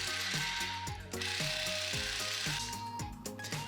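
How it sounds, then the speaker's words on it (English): A socket wrench ratchets on 21mm nuts of a BMW E90 control arm, giving quiet, evenly repeated clicking strokes with small metallic knocks throughout. "let's grab that 21mm socket and get these off"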